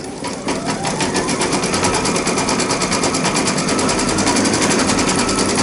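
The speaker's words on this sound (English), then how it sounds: "now we'll go ahead and load it into our embroidery machine" A close embroidery machine stitches a Christmas tree appliqué with a rapid, steady mechanical needle rhythm, loud and uninterrupted with no talking.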